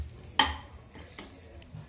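A spoon stirs salt and spices together in a pan, with one sharp scrape followed by a few softer brushes and taps.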